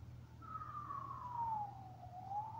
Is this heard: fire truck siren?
yes